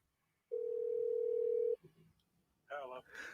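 A telephone gives a single steady tone held for just over a second, clear and fairly quiet, followed by a brief burst of voice.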